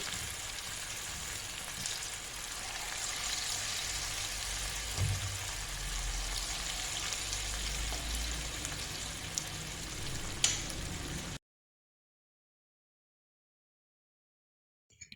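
Assamese bottle gourd pitha fry in a pan over a medium gas flame, giving a steady, close sizzle with faint crackles for about eleven seconds before the sound cuts to silence.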